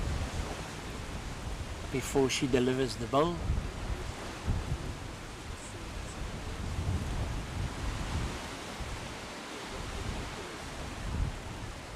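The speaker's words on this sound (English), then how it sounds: "Now the wind really gusts" Wind gusting outdoors at a lawn bowls mixed pairs final, a broad, steady rushing roar buffeting the microphone throughout, with a commentator speaking briefly over it.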